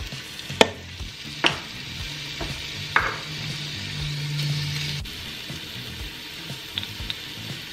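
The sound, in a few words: pork pieces sizzling while browning in Instant Pot on saute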